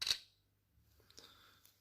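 The rear camera of a Realme 5S phone fires a single crisp shutter click at the start, followed by faint handling rustles and small ticks in a quiet room.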